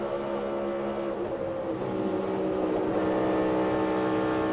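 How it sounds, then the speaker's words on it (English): A NASCAR stock car engine climbs back up in revs after a crash, a loud continuous droning roar with steady harmonic tones filling the whole stretch, no voices over it. "You hear him go back to the gas, saving grace."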